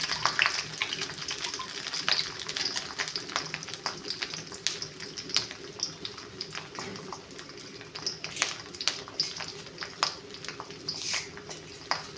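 Garlic and dried red chillies fry in hot oil, giving a steady close sizzle with crackling pops and occasional stirring scrapes and no talk.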